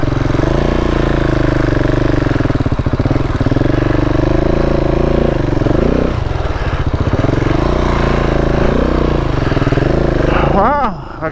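An adventure motorcycle on a rocky backcountry trail in Honduras, its engine droning loud and steady throughout and shifting in pitch as the rider works the throttle, with wind and rattling over rough ground.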